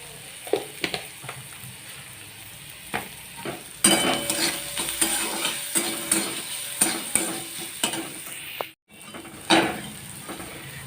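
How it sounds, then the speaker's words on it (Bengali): Onions fry in hot oil for ghugni, a steady sizzle broken by repeated scrapes and stirs of a spatula against the pan, with no talking. "পেঁয়াজটা ভাজা হয়ে গেছে, এবার দিয়ে দেবো আদা রসুনের পেস্ট।"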